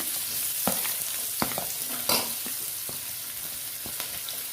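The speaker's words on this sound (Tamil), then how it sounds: "வெங்காயம் போட்டுட்டு நல்லா வெங்காயம் வதக்கிக்கோங்க." Steady sizzling and crackling of onions sautéing in hot oil, close up, with occasional soft scraping stirs, no voices.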